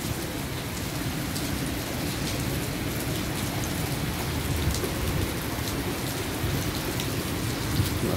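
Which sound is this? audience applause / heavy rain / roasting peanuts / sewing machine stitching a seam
heavy rain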